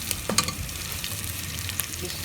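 Onions and spices for mutton karahi fry in a pan with a constant close sizzle, punctuated by a few sharp clicks and scrapes of stirring; nobody speaks.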